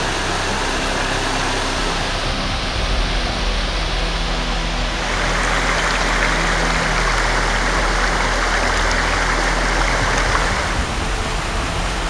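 Running river flowing over rocks in the Smoky Mountains, a loud, continuous broadband rush of water with a steady churning roar that swells slightly midway.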